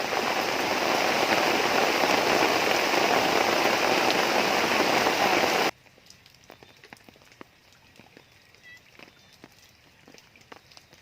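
Heavy rain pours steadily onto a riverside fishing spot, a dense loud hiss lasting about half the time before stopping abruptly, leaving faint scattered drips and quiet ambience.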